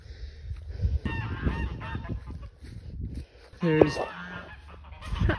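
Guard geese honking loudly in repeated harsh bursts close by, with people talking over and between the calls.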